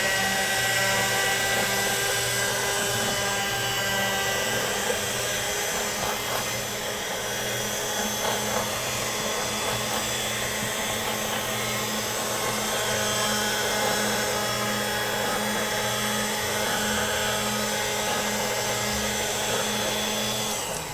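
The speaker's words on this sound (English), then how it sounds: "I like to send mine through a pasta machine so that they're really nice and consistent" A hand-cranked or motorized pasta machine rolls gum paste into an even sheet for a polka dot wedding cake decoration, a steady loud mechanical hum with harmonic whine running continuously throughout.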